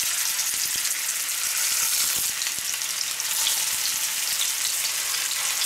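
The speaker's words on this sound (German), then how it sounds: "So, stellen wir die Pfanne auf den Herd und ich nehme dieses Öl." Meatballs brown in a little oil in a pan on the stove, giving a loud, continuous close-up sizzle with scattered pops and crackles throughout and no voices.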